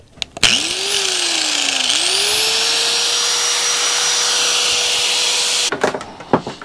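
A power tool cuts an aluminum part for a fuel pump modification on a 1988 Evinrude 200hp V6 Looper outboard: a whine spins up, dips briefly, then holds a loud steady high-pitched drone before stopping abruptly with a clatter.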